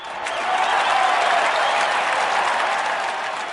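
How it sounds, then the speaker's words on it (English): A crowd cheers and applauds for Queen Victoria after a Thanksgiving service at St. Paul's Cathedral, a dense, steady roar of clapping that swells in the first half-second and then holds loud. "She was back in business, and the crowds cheered."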